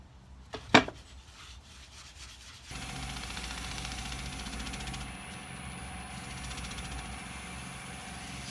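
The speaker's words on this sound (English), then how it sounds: "The trusted old Yorkshire grit on here now. Just going to get that all over." Yorkshire Grit abrasive worked onto a wooden pot on a lathe: a brief rubbing scrape near the start, then the lathe hums steadily with a continuous faint friction hiss and a high whine.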